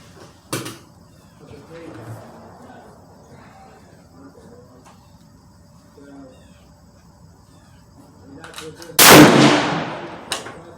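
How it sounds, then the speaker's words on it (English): A single loud, sharp rifle shot from a Savage 110 Tactical precision rifle rings out near the end, preceded by quiet outdoor ambience and a faint click. "pick a spot and then peek over and pull the trigger and see where it hits."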